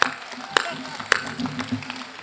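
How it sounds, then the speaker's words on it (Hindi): Audience at a Hindi comedy poetry gathering gives a few sharp, scattered claps, isolated bursts spaced under a speaking voice rather than sustained applause. "मैं फिर से शर्माऊंगा, आप फिर से ताली बजाइएगा"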